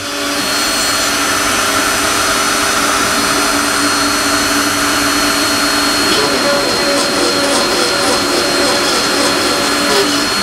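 Milling machine cutting a pocket into metal, a steady, loud, continuous whir with a thin whine riding on top that lasts the whole time and never breaks, with nobody speaking.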